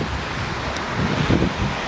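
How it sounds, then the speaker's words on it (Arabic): A flooded river in Morocco in 2024 surges as a torrent toward the sea, a steady, dense roar of rushing water with wind buffeting the microphone. "هذا الواد كيدي الفيضان للبحر"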